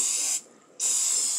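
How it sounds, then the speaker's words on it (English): Cooking spray hissing from a can onto ice cube trays in a kitchen, two close, loud bursts separated by a brief pause, with no voices. "I'm gonna spray those a little bit so that the fudge will come off pretty easy"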